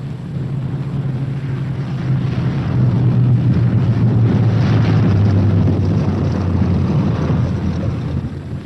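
World War II B-17 bomber arriving at its airfield, a loud, steady low engine drone that swells and rumbles over several seconds with wind noise.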